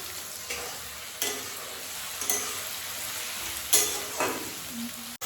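Onions browning in a hot pan for a spicy chicken curry, a constant sizzle broken by several sharp stirring scrapes and spatula knocks, close up, with no talking.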